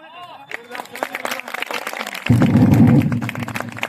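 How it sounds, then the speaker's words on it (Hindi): At a village gathering about alcohol prohibition, someone speaks alone at first. Then a crowd of villagers breaks into loud, sustained applause that carries on to the end. "तालियां बजाई जाए और सभी के स्वागत में बजाई जाए।"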